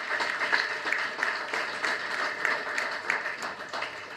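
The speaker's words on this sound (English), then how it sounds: "That really deserves a huge round of applause." An audience at a foundation's anniversary celebration applauds a student, a dense, even patter of many hands clapping at moderate distance, sustained throughout.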